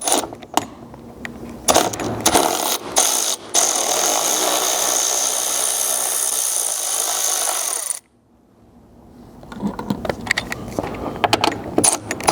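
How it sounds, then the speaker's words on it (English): Mounting nuts being removed from the hood bracket studs on a Chevy Colorado or GMC Canyon, a close power tool whirring in a sustained burst with clicks and metallic clatter before and after, then quieter handling noises. "so we'll pull both of these nuts off."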